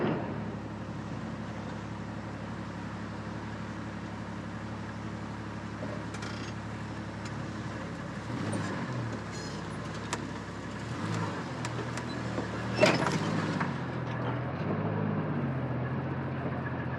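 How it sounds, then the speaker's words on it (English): An off-road vehicle crawls over big rocks in 3-wheel drive with one front and two rear wheels spinning, a steady low engine drone rising into uneven straining and bumps later, fairly close and moderately loud, with no talking. "So technically he's driving with 1 wheel spinning on the front and 2 spinning in the rear"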